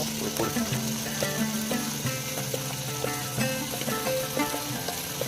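Ginger garlic paste sizzles in oil for a village-style chicken gravy, a steady soft frying hiss with occasional spoon clinks and stirring taps against the pot.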